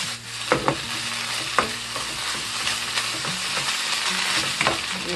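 Seasoned Korean namul, bellflower root or bracken fern with salt and soy sauce, stir-fries in a pan with a continuous sizzle and occasional sharp scrapes of a utensil, up close and without talk.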